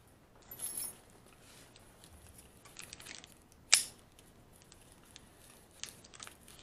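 Scissors snip through a strip of Velcro in a quiet room, a few soft scattered cuts with one sharper snip near the middle, close and alone without speech.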